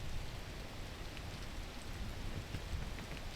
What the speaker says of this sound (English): Like the rain, like the poison.